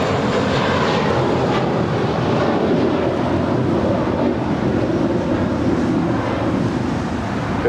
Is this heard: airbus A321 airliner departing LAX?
yes